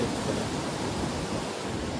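Mountain water rushing beside the road to Kedarnath, a steady, broadband roar like a stream or small waterfall, constant and fairly close with no voices.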